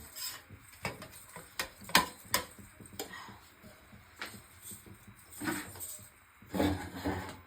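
Rice being served onto a plate in a home kitchen while food reheats, with soft scattered taps and scrapes of a spoon against the dish, quiet and close.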